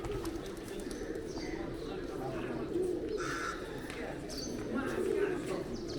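Pigeons coo softly and repeatedly in a Kathmandu square, a low warbling murmur that runs throughout, with nearby talk and scattered chirps around it.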